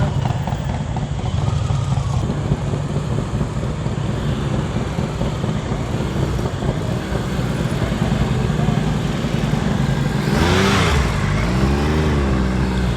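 A motorcycle engine idles and blips through low revs during slow-speed riding drills in a Massachusetts practice lot, a steady close chugging rumble with a rising rev swell near the end.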